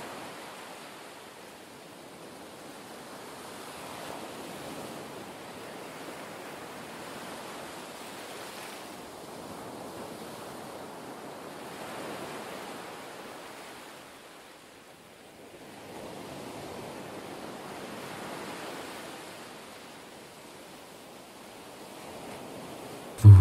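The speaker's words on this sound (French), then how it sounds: "laissez-vous bercer par la musique des vagues" Ocean waves wash onto a beach in slow swells that rise and fade every few seconds, a soft, distant, steady hiss with no voices.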